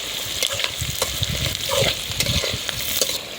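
Sliced onions with green chillies fry and get stirred in a pan, a steady sizzle broken by repeated scraping and clattering stirs, close and fairly loud with no talk.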